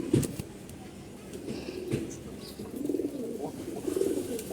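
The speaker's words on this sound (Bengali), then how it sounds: "একটা কবুতর দেখতে পাচ্ছেন এটা বাঘা কবুতর" Pigeons, including a Bagha breed bird, cooing close by in a loft; several low, throaty coos repeat in soft rolling bursts, with faint background noise and no clear speech.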